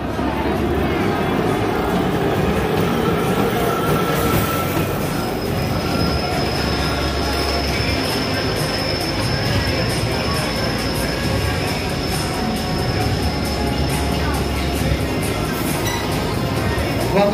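The Bobcat family roller coaster train at Six Flags Great Escape rumbles loudly and continuously along its track, with wheel squeal and rattling cars throughout and riders' voices faintly mixed in.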